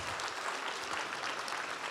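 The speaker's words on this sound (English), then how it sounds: "or an even bigger round of applause" Brief, dense round of audience applause at a Make-A-Wish Idaho charity gala, fairly faint and even, many hands clapping together with no speech over it.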